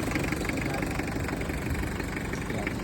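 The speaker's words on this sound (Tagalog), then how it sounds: "Ayun yung makina niya" A Mazda RF diesel engine idling in a Bunsoy type jeep, a steady close rumble with an even low clatter and no change in speed throughout.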